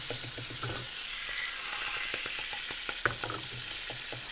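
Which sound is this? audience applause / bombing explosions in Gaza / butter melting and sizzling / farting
butter melting and sizzling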